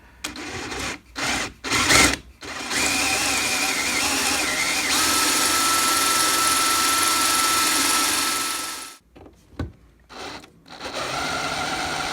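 A close, steady high-pitched whine of a power drill drilling holes in downdraft sheeting for a plasma CNC table, running for several seconds, framed by short bursts before and after.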